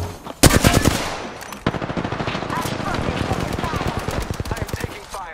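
Rapid automatic gunfire from a shooter video game, loud and dense, with sharp shots opening and then sustained bursts of fire running to the end, mixed with game effects.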